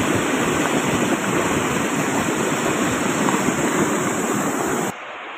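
Continuous rushing water of a small waterfall pours steadily, a broad hiss of falling water close by, with no voices, cutting off abruptly at the end.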